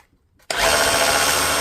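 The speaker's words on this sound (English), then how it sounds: "we'll start off in the drill mode" A repaired DeWalt rotary hammer drill in drill mode switches on after a short silence and runs at a loud, steady, continuous whine with no pauses.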